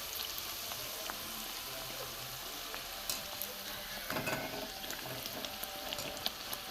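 Fish kochuri frying in hot oil, a steady close sizzle with soft crackles and the occasional scrape of a stirring utensil, with no talking over it.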